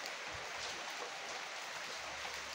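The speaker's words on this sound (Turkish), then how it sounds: "Öyle yağıyor." Rain falls steadily outdoors over crops, a faint, continuous hiss of drops with no pauses and no voices.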